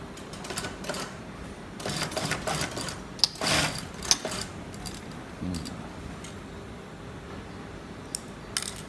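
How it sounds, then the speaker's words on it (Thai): A sewing machine stitching the sleeve of a men's shirt, with short bursts of rapid mechanical clatter separated by pauses and small clicks, close and fairly quiet. "เย็บทั้งสองข้างเหมือนกัน"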